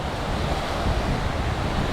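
Ocean surf washes steadily onto a Thai beach in the evening, with wind buffeting the microphone in a constant, fairly loud roar and no voices.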